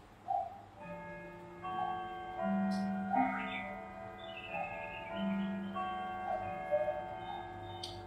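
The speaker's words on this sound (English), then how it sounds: "So we'll change it to the Westminster chime." A 222cm walnut Howard Miller triple-chime grandfather clock plays the Westminster chime, a slow sequence of ringing bell tones that overlap and decay, fairly soft and close.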